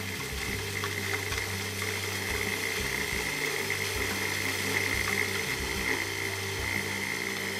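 A blender grinds breading for halibut with a steady, dense motor whir, close and loud. Faint rhythmic thumps and bumps of the blades pulsing sit under the whir, with no one talking.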